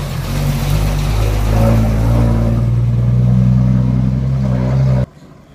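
An old Nissan truck engine roars loudly and steadily, revving for several seconds before cutting off abruptly into near silence.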